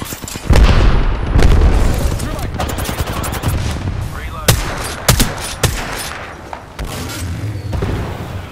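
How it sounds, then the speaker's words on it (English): Frag grenade and arc star being thrown in a video game shooter, heard as several loud, sharp booms and bursts of gunfire-like impacts spread unevenly over a few seconds, with a dense battle rumble underneath. "Firing a frag. Throwing arc star."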